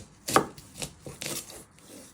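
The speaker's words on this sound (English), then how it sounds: "Then you chop it down the middle." A kitchen knife chops an onion on a board, with three or four sharp, close knocks at an uneven pace followed by a soft fainter tap.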